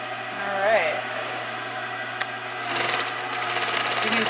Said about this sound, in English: So I'm going to just get this fired up here. We're going to do some straight stitches and see how it goes.